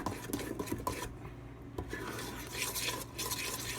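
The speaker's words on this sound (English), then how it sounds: "Now this is when you really stir it." Cornbread batter stirred hard in a bowl, with a steady wet scraping and swishing that runs without pause, slightly quieter for a moment in the middle, with no talking.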